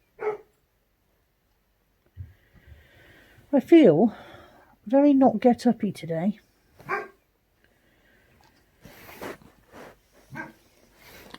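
Under a woman's close, relaxed talking, a dog barks and yelps intermittently in the same room, the dog's sounds mixing with her voice rather than standing clearly apart.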